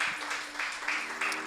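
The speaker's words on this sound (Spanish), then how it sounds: "¿Qué tal si le das un aplauso al Señor ahí?" A church congregation claps during a Spanish-language sermon, a short burst of crowd applause in a hall, with a low hum or tone running underneath.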